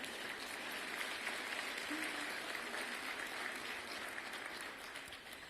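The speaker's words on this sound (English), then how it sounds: "You can give yourselves a round of applause." A large crowd at a State of the Schools address claps together in sustained, dense applause. It holds steady for several seconds, then starts to thin toward the end.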